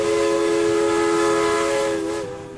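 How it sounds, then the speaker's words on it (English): A steady, piercing train whistle blows continuously, loud and close, with a slight dip in pitch near the end as it fades. "give a pull down on this little whistle and the piercing cry echoes through this thin corridor"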